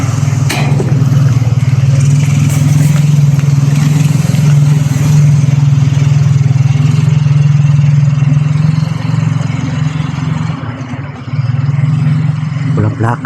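A motorcycle with no license plate, its engine droning steadily at mid pitch, close and loud throughout, with a brief dip near the end and faint talk mixed in.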